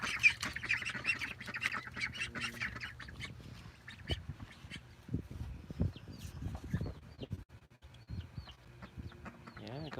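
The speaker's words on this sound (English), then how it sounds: "Baby ducks, look." Baby ducks at a new pond give a busy chorus of high peeping and quacking calls, close and continuous, with a few soft voices talking underneath.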